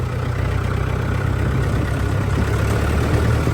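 A Mahindra tractor engine runs in a steady, loud, low diesel rumble with an even throbbing pulse, holding close and continuous throughout, with no voices over it.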